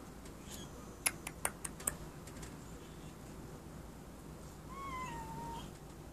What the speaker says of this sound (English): he's a good kitty